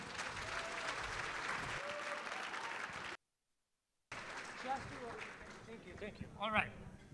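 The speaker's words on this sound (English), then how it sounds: "Let's give Cecilia another round of applause," A gala audience applauds an honoree in a lively burst of clapping. After a short silent gap it resumes with cheers and voices mixed into the crowd noise.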